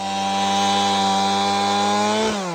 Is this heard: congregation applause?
no